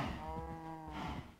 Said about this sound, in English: these cows are so annoying